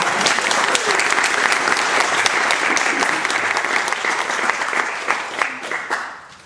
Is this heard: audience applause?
yes